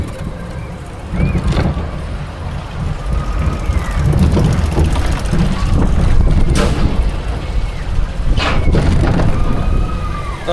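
Zamperla Crazy Mouse spinning coaster on track, a loud continuous rumbling roar with clattering wheels and brief squeals as the car begins to spin, with no voices.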